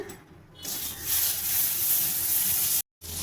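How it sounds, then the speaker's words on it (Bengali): Butter sizzling in a hot kadai over a gas flame while cooking a shop-style chicken bharta, a steady close hissing fry that briefly cuts out near the end before resuming. "কড়াইয়ের মধ্যে আমি বাটার দিয়ে দেবো।"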